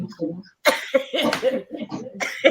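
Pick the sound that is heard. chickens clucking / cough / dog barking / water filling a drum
cough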